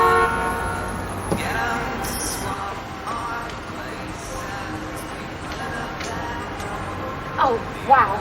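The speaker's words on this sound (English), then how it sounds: "Don't you honk your horn at me," Car horns toot briefly amid steady traffic noise, with a couple of sharper honks near the end.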